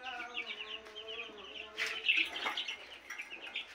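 Small chicks peep in quick high chirps, a steady string of thin calls close by, with a louder burst of bird noise near the middle.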